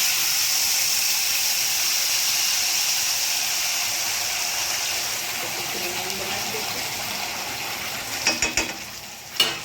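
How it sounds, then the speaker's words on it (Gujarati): Cumin seeds and asafoetida sizzle loudly in hot oil for a mixed-vegetable Punjabi sabzi gravy. A steady, close crackling hiss eases slightly over time, with a few clinks and clatters near the end. "આપણું તેલ ગરમ થઈ ગયું છે. એમાં આપણે જીરું નાખી દઈશું પહેલા."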